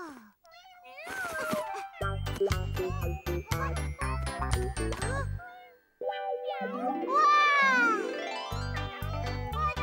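Several high, thin kitten meows from a cartoon ginger cat's kittens repeat close by among jingly tones and a rhythmic musical backing, with a voice chiming in.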